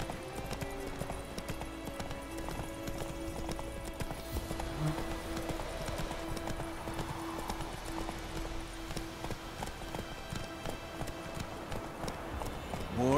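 A horse gallops in The Witcher 3, steady rapid clip-clop hoofbeats running continuously at moderate volume over a low ambient game soundscape.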